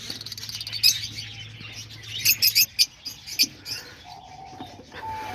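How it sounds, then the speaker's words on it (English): Fischer's lovebirds in an aviary, letting out a quick series of sharp, high chirps in a burst of about six, then quieter rustling with a faint background hum. "And then let's go check out the other lovebirds, the Fischer lovebirds."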